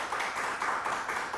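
Audience clapping for musicians at a Turkish music gathering, a short, fairly faint patter of many hands.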